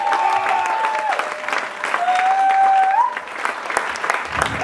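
A church congregation claps and cheers loudly and continuously, with a sustained sung or called-out voice rising over the crowd.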